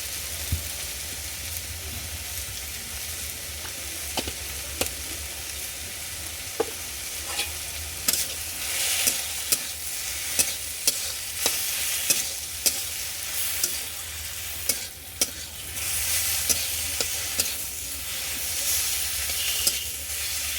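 Taro and mixed vegetables fry with a bright, constant sizzle in a pan, broken by frequent sharp clacks and scrapes of stirring, close up with no voices.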